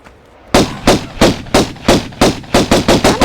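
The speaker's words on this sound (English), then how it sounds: "We're gonna use pistols." Pistol shots in a video game fight against gorillas ring out loud and close, about a dozen sharp reports in a steady rhythm that quickens toward the end.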